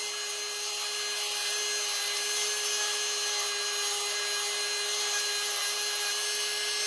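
An electric nail drill with a levelling bit works the cuticle area of a fingernail. It gives a steady, high-pitched motor whine with a constant tone, close and continuous, with no talking.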